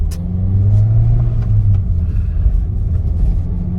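A 2004 Toyota Matrix XRS with the 2ZZ engine revs hard toward high RPM, a loud, close engine roar with a rising pitch that then settles into a sustained rumble, with no talking.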